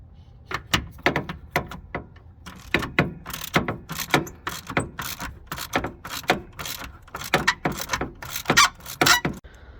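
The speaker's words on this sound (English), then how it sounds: "to remove the holder, you will need a 13mm socket and a ratchet extension" A ratchet fitted with a 13mm socket and an extension backs out a long battery holder bolt, giving a close series of quick rasping clicks in uneven bursts with short pauses between strokes.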